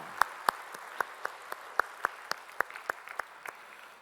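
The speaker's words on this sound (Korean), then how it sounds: "우리 찬양으로 영광 받으실 우리 주님께 영광의 박수 올리겠습니다." Church congregation clapping after a hymn at a Sunday worship service, heard as a sparse, even beat of single claps, fairly quiet and steady, with no voices over it.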